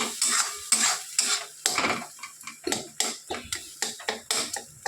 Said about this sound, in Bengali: সেটা দিয়ে দিলাম। ভালো করে নেড়ে নিচ্ছি।